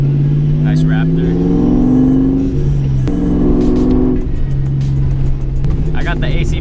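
A Ford Raptor pickup truck passing by on the road, its engine swelling and fading as it goes past, heard from inside a moving car over that car's own steady engine hum.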